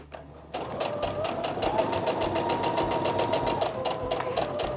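A sewing machine stitches a paper-pieced quilt block with a tiny stitch, its needle running in a fast, steady mechanical rattle close by after a short quiet start.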